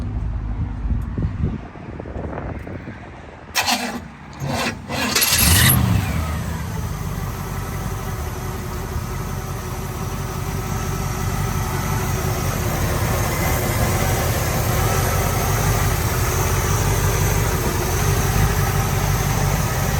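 A 1967 Chevrolet Camaro convertible runs close by, a few brief revs and clunks early on, then a steady, even idle rumble that holds for the rest of the stretch, loud and alone with no voices.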